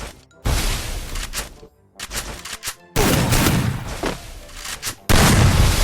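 Shotgun blasts ring out in a first-person shooter video game, several loud booming shots arriving in bursts separated by brief quiet gaps. No talking can be heard.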